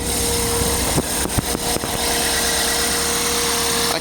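A 1998 Toyota Corolla VE engine with about 340,000 miles idles steadily up close, a constant low hum with a faint whine, interrupted briefly by a few clicks and knocks.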